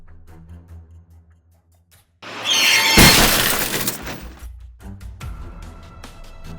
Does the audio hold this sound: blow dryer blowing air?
no